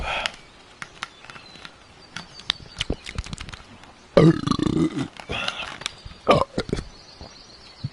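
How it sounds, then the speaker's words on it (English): A loud, drawn-out burp erupts after a quiet stretch of faint sips and clicks, followed by a couple of shorter belch-like bursts close to the mic. "That's burp ASMR."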